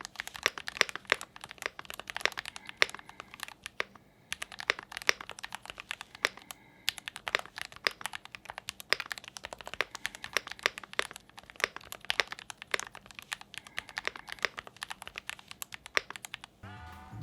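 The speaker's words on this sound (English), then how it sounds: "let's do the sound test of painter type lubricated switches and everything else as from the box" Steady typing on a mechanical keyboard with lubricated Painter-type switches, soft, muted keystrokes in a continuous rapid rhythm, close up and fairly quiet, with no voices.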